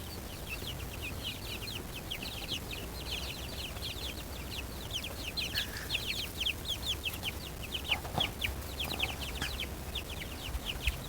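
Bantam chickens cluck in a steady scatter of short, quiet calls over a low outdoor rumble, a few louder clucks breaking through near the end, with no voices.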